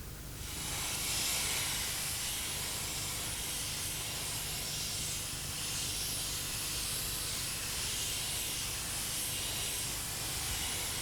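Terrastat 9120 undercoat sprayed onto a car underbody, a steady, loud, broad hiss that runs unbroken for about eleven seconds.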